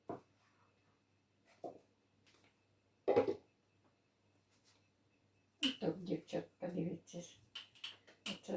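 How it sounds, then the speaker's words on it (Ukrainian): Metal utensils scrape and clatter against bowls and pots in a home kitchen while garlic is prepared, a few scattered clanks early on and a busier stretch mixed with talking near the end. "Щось я так завжди шкрябаю, то по мисках, то по каструльках"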